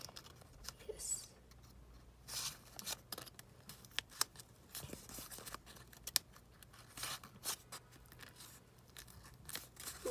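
Paper crinkles and creases as it is folded into a heart shape, giving sharp, close rustles and crisp crunches in irregular bursts with quiet gaps between.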